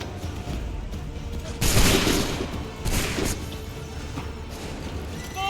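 Musket volley fire in Assassin's Creed 3 Remastered, two loud crackling bursts of massed shots over a rumbling battlefield background.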